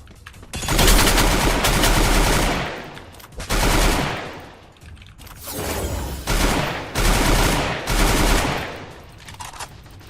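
M60 machine gun fire in the Free Fire shooter game comes in several loud, sustained bursts of rapid shots, each lasting a second or two with short pauses between them.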